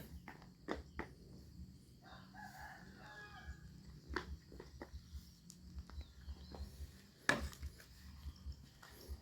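Chickens clucking and a rooster crowing close by in a Thai rural farmyard, with scattered short calls over a low background hum.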